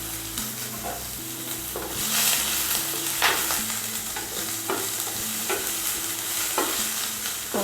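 Chopped shallots and green chillies frying in hot oil with fennel seeds for a moringa leaf soup, a continuous close sizzle with repeated stirring scrapes and no talking.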